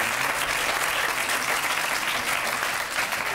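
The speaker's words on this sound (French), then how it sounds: "On applaudit Grégory" Steady, loud clapping from a studio audience fills the set of the French television game show On a tout essayé, a continuous wall of applause that neither builds nor fades.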